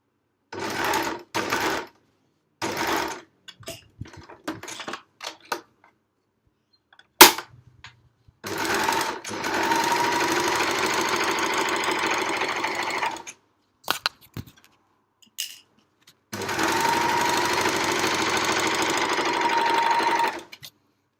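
A sewing machine stitching a library bag runs in short bursts and then two longer steady runs of rapid needle clatter, with quiet pauses between.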